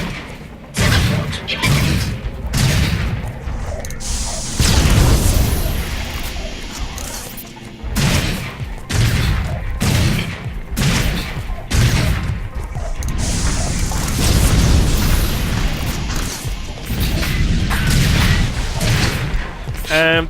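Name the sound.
Gatling and lightning towers firing in the video game Sanctum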